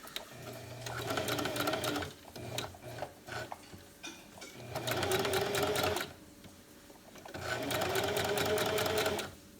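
A sewing machine stitches baby sleeper fabric in three loud bursts of rapid, steady mechanical whirring, separated by short pauses filled with small clicks and handling noises as the fabric is lifted and turned.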